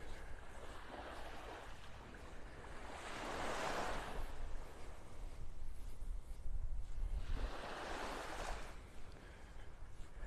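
Gentle surf washes onto Vanderbilt Beach in North Naples, Florida, faint waves swelling and receding in two slow surges under light wind noise, with no one speaking.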